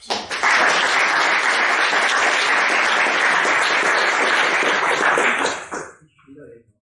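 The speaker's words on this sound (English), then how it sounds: "please give him a warm applause" A meetup audience gives a speaker a warm round of applause, loud dense clapping close by that holds steady for about five seconds before tapering off into a few scattered claps and then quiet.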